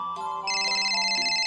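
A phone ringtone plays as a bright, repeating electronic melody, close and clear with no one speaking over it.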